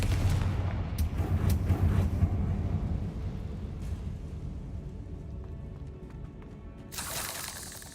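A Confringo blasting spell from Hogwarts Legacy: a loud, rumbling explosive burst that settles into a sustained low roar and slowly fades, followed by a sharp crackling flare near the end.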